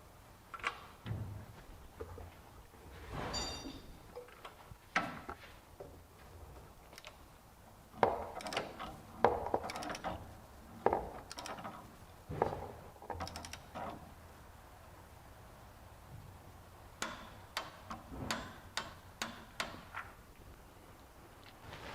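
Ratchet wrench tightening oil cooler gasket bolts on a 2004 Nissan Titan, with scattered clicking bursts that are quiet and close, grouping into quick runs of ticks toward the end.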